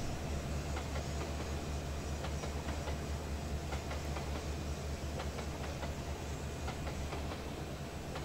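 Carrabassett Valley Railroad train rolling past with coal cars, a steady loud rumble with rhythmic wheel clatter and rail clicks continuing throughout, close by and without voices.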